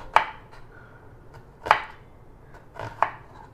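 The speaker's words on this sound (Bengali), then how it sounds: "বন্ধুরা, এবার রান্না চাপাবার আগে এই পেঁয়াজটাকে একটু কেটে নিই।" A knife slicing onions thinly on a board, four separate sharp chopping knocks spaced irregularly, close and clear over a quiet room, with no talking.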